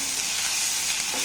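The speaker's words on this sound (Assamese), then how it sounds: "আদা নহৰুখিনি অকণমান নহৰু গোন্ধটো অহালৈকে অকণমান ভাজি লৈছোঁ।" Ginger-garlic paste sizzles steadily in hot oil in a pan, a close, even hiss with no talking.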